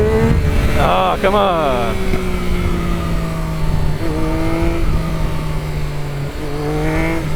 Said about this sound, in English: It does like to wheelie, this bike.